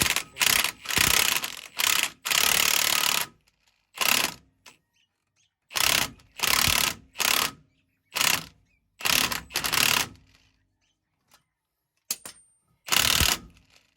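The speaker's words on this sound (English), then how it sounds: "I got a 22mm socket for this C-clamp." A ratchet wrench with a 22mm socket turns a C-clamp on the brakes of a Chevy 3500 Duramax diesel dually, sounding as close, loud bursts of rapid clicking separated by short silent pauses.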